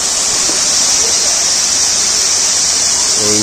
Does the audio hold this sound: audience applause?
no